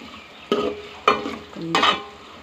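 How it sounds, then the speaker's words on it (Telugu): Mustard seeds and dried red chillies frying in hot oil, stirred with a spatula: three distinct scraping, sizzling strokes roughly half a second apart over a low background crackle, close and loud with no voices. "ఆయిల్, ఆవాలు, ఎండుమిర్చి వేసుకున్నాను. ఇట్లా కొంచెం ఫ్రై అవ్వనివ్వాలి"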